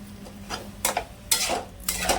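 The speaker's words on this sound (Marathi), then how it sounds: "बटाटा चांगला असा परतून परतून घ्यायचा आहे" Potatoes and fresh peas sautéed in spices in a pan, with a spoon scraping and clinking against the pot in several distinct strokes over a faint sizzle.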